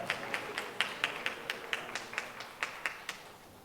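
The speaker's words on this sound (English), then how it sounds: "give yourselves a hand clap" A small luncheon crowd of worksite supervisors at a summer youth employment event claps by hand, sparse and uneven, with about a dozen distinct slaps spread across a few seconds, moderately distant and fairly quiet.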